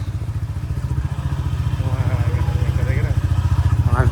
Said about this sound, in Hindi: गाइस हम अपनी बुलेट लेके अब निकल चुके हैं।